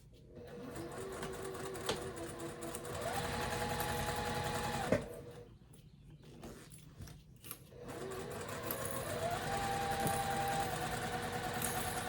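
A sewing machine runs a 1/4 inch seam while a boxy quilted bag is sewn: a steady mechanical whir in close, even runs, broken by a short pause partway through before stitching resumes.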